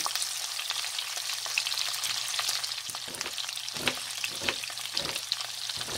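Garlic, paprika and onion fry in a pan with a steady loud sizzle, broken by sharp crackles and stirring scrapes, close and with no talk.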